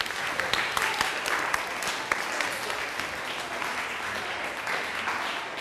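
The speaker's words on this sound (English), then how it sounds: "Give them a round of applause." Audience at a National Honor Society leadership training bursts into sustained applause, dense and fairly loud clapping from many people that carries on evenly throughout.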